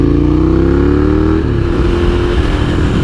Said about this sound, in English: Got that Honda Fit going by here.